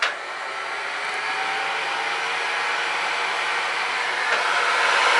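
A hot air rework station blows heated air onto a chip on a laptop motherboard, producing a steady, close, unbroken airy hiss that holds at an even level from start to finish.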